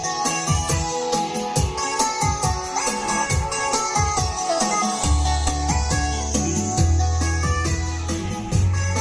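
Live band music plays loudly and continuously through a Bluetooth speaker cabinet indoors at home, with drums and melodic instruments, and a heavy bass line entering halfway through.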